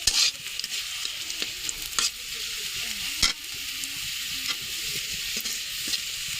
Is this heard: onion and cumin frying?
yes